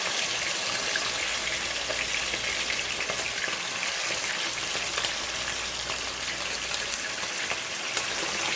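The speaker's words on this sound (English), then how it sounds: "I'm going to fry these up" Chicken wings fry in a pot of hot oil, giving a steady, dense sizzle and crackle that runs unbroken at close range with no voices.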